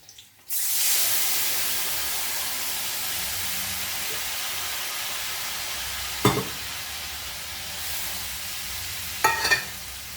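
Spice paste mixed in water hits a hot pan over fried nigella seeds for a thin Bengali hilsa fish curry with brinjal and taro stems, bursting into a loud steady sizzle, with two brief clattering stirs later.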